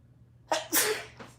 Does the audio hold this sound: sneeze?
yes